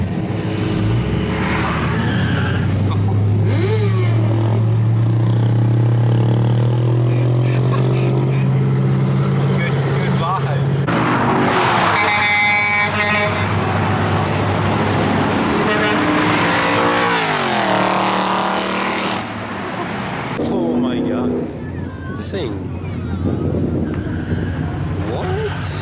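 Race car engines rev and roar nearby while cruising streets in York, rising and falling as vehicles accelerate, with people talking over the noise at times.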